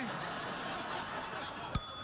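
A single quick ding from a bell pressed once on a late-night talk show set, short and bright, rising above steady crowd laughter and studio noise.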